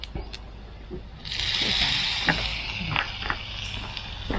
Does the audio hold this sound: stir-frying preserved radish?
yes